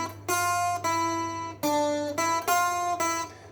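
Guitar picks out a melody in about five separate bright sustained phrases, each ringing out cleanly with no voice over it, and a steady low hum sits beneath.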